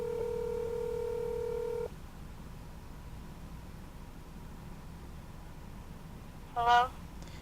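A phone is dialed for a prank call: a steady dial tone runs for about two seconds, then comes faint background hiss and a brief burst of dialing tones near the end.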